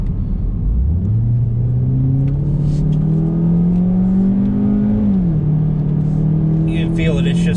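A high-mileage 2013 Ford Focus with a slipping transmission accelerates to merge onto an interstate, its engine note climbing steadily and loudly from inside the car, then dipping briefly as a gear changes before it pulls on.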